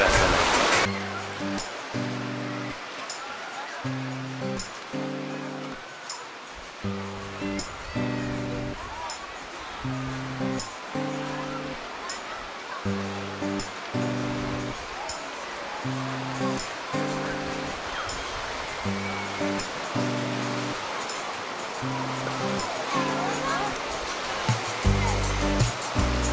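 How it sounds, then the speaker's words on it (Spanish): Artificial waves in a thermal park wave pool surge in a steady broad wash, with a repeating rhythmic low mechanical pulse from the wave machine beneath it and continuous noise throughout. "acá sí están programadas las olas"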